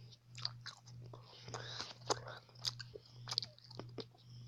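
Close, wet chewing of gum with soft smacking and clicking mouth sounds, irregular and intimate, over a low steady hum and occasional breathy vocal noise.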